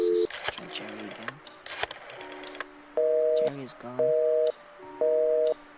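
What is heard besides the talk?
telephone dialing and busy signal in the video game Scratches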